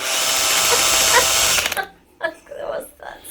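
An electric drill runs hard and overheats, a loud continuous whine for about a second and a half before cutting out, followed by voices talking.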